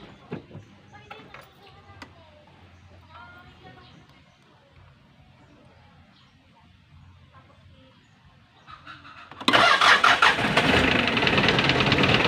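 A car engine, its alternator belt loose, cranks and catches at once, then idles loud and steady close by, after a quieter stretch of shop noise with faint voices in the background.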